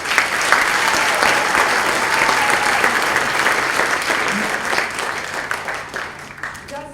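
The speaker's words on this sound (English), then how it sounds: "Let's give them a round of applause." A middle school concert audience claps for the 7th grade choir, dense, loud applause from a full hall that holds steady and then tapers off, with faint voices under it near the end.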